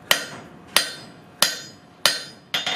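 A blacksmith's hammer forges an offset on the near side of an anvil. Five sharp ringing strikes land at a steady, unhurried pace, close and loud, each decaying briefly. The last blow is quickly followed by a lighter rebound tap.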